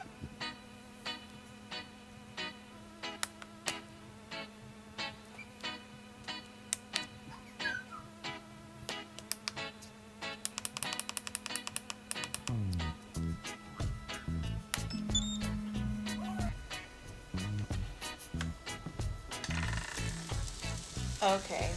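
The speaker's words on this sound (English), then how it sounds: "They're in our fryer, and I'm going to close it now and let it cook for about 10 minutes" Keto jerk chicken meatballs cook inside a closed air fryer with a faint, steady sizzle and light ticking. The sound grows louder and busier partway through, with tonal background sound running alongside.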